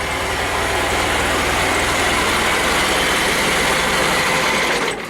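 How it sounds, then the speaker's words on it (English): A 50-year-old tractor engine idles steadily up close at a loud, even level for about five seconds, with a low rumbling drone that dips slightly right at the end. "Now I'm going to cut the tractor off."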